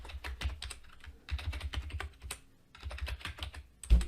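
Letters are typed on a computer keyboard into a spreadsheet column in quick, irregular clusters of close clicks, with brief pauses between bursts and one louder final tap.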